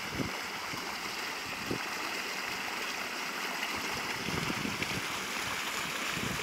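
Steady rushing water fills the scene, a continuous broadband roar of the Darnychanka river's strong current at a dam in woodland near Kyiv, heard at a moderate distance with no voices.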